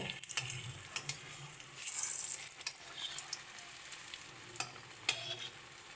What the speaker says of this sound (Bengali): সুন্দর করে এগুলোকে ভেজে নেব দু পিঠটাই লাল লাল করে